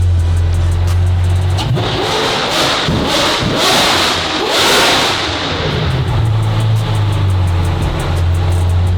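A Ferrari engine revs hard close by, the pitch sweeping up and down through several loud throttle blips before settling back to a steady burbling idle.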